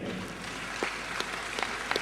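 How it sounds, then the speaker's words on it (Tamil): Applause from an audience at a Tamil cultural programme held at the University of Malaya, heard as a steady, fairly faint patter of many hands with a few sharper claps standing out, with no talking over it. "இவர்களுக்கு முதல்ல ஒரு பெரிய கைத்தட்டு கொடுங்க."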